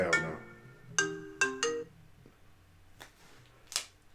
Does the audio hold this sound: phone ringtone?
yes